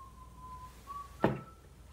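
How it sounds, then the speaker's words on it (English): A thin, steady whistling tone that breaks off briefly and resumes, with a dull thud landing near the end. "What was that whistling noise?"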